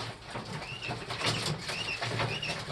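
Fee quail and golden quail shuffle about in a pen, giving soft, repeated chirping calls over a low rustle and patter.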